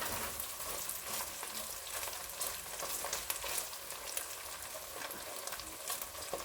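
Celery frying in a hot pan for rice noodles, a steady dense sizzle with crackling pops running continuously, close and fairly loud, with no talk.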